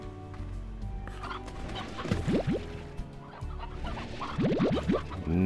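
Chickens cluck and squawk in short bursts in the video game Slime Rancher, over a busy background of steady noise, with a few rapid cackling runs.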